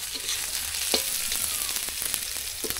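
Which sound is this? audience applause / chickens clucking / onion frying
onion frying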